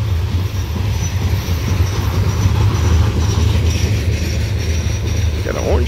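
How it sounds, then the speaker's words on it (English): CSX coal train on the old B&O mainline near Pars Ridge rumbling past steadily with a low, heavy drone and faint wheel noise, close and continuous as the last cars go by. "Here's the end of the train."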